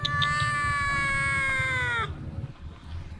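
A cat meows outdoors in Perlis, Malaysia, one long drawn-out wailing meow lasting about two seconds, followed by quieter street background.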